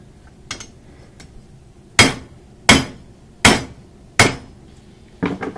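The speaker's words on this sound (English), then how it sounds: "Hot again, so we'll do a little more hammering" A hammer strikes hot metal at a home forge in several loud, evenly spaced ringing blows. Lighter taps come before and after them in an otherwise quiet workspace.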